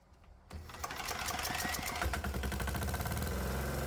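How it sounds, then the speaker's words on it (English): A diesel engine running on normal diesel fuel starts up after a brief quiet moment and settles into a steady, fast mechanical clatter with a deep underlying rumble, close and loud. "Right now, the engine's running on normal diesel fuel"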